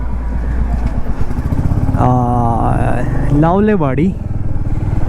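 A motorcycle is ridden along a road in the Ratangad area, its engine droning steadily and close while someone talks over it throughout.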